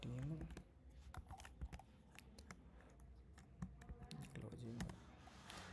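Clicky keystrokes on a computer keyboard while HTML code is entered, arriving in quick irregular bursts beneath a man's ongoing speech.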